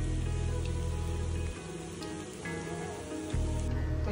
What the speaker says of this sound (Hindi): बाहर है बारिश का मौसम